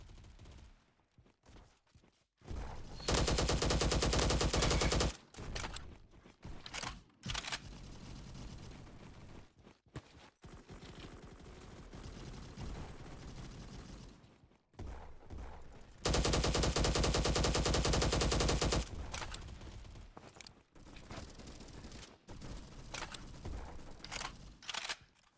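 Sustained bursts of LMGX light machine gun fire in the shooter game Bad Business, two long loud stretches of rapid automatic shots with shorter volleys and pauses between, no talking.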